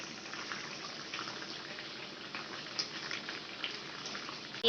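Pointed gourd and potato curry simmers on the stove with a soft, steady bubbling and hiss, faint and even, with a few small pops and no voices.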